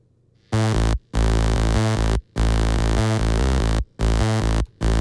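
A buzzy, harmonically rich synth bass with a hard-sync edge plays short repeated notes in a choppy rhythm, loud and alone.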